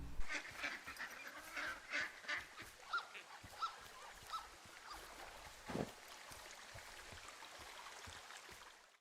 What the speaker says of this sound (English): From the winds to ducks quacking to the sound of dirt and rocks being crushed under your feet